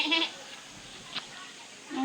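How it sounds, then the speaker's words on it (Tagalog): A goat bleats near a pool resort in Pansol, Laguna: a short nasal call at the start and another at the very end, with light background noise and brief speech between them. "May kambing."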